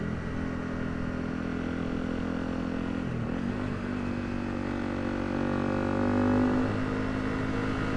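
A motorcycle cruises along a country road, its engine a steady close drone with slight shifts in pitch as it rolls on, with no talking.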